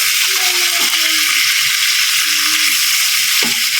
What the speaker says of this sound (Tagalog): Habang pinapride natin yung pork chop natin